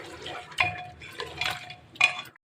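Ginger garlic paste stirred into browned mutton in a pot, a spoon clinking and scraping against the metal in a few quiet, irregular strokes with faint sizzling between them.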